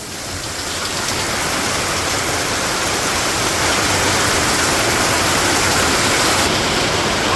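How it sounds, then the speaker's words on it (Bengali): Steady heavy rain falling outside in a Bangladeshi village during the rainy season, a dense continuous hiss of drops at constant loudness throughout, with no voices. "বাইরে বৃষ্টি হইতেছে আর এদিকে সবাই বসে রয়েছে।"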